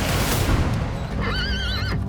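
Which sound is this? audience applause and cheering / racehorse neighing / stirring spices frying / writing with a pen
racehorse neighing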